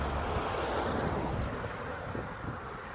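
Gusty seaside wind roars across the microphone with surf breaking behind it, a dense, steady rush that eases slightly toward the end, with no voices.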